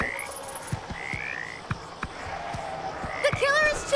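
A frog croaks repeatedly in the Propnight video game, short bright calls repeating in quick rhythm over game sounds and background noise.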